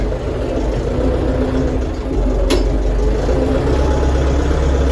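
A Kata KE354 tractor with a cab idles steadily nearby, its low engine drone running continuously and evenly throughout with no speech over it.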